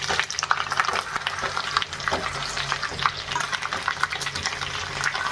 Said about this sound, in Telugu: చేపగుడ్డు కూడా ఒకసారి కలిపేసుకోవాలండి, అటు ఇటు కలుపుతూ బాగా ఫ్రై చేసుకోవాలి 4 వైపులు